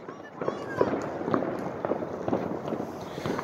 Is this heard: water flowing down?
no